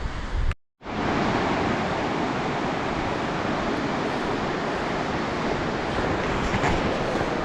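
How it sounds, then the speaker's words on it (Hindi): A Himalayan river flowing beside the Har Ki Doon trek gives a loud, steady, close rush of water that fills the whole clip, broken by one brief dropout near the start. "तो ये कल कल कल नदी की आवाज़ सुन रहे हैं।"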